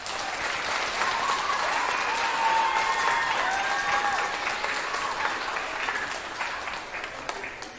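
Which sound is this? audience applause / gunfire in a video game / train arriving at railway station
audience applause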